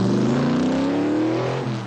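A muscle car's engine roars loud and close, its pitch climbing steadily as it revs, then dropping briefly near the end before pulling on, with no voices.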